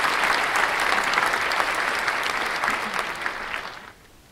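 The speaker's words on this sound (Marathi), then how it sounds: "एकदा जोरदार टाळ्या सुधांशूसाठी" Loud, steady applause from a college audience cheering a first-year student, sustained for about four seconds before quickly tapering off.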